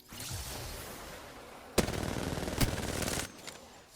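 Automatic weapon fire in the shooter game Apex Legends comes as two loud, rapid bursts in the middle of the stretch, with quieter game sounds before and after.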